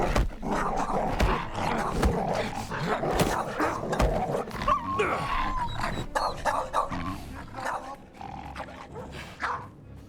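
Dogs in the video game The Order of Giants bark and growl continuously, loud and close, with roaring snarls that rise and fall over about ten seconds.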